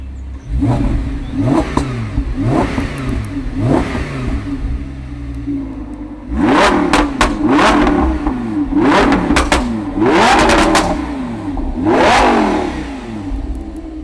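A V10 sports car engine revs repeatedly in sharp bursts, climbing and falling in pitch, growing louder and more aggressive in the second half.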